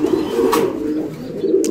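A male high-flyer pigeon coos in a low, steady, throaty drone, close and fairly loud, with a couple of brief rustles partway through.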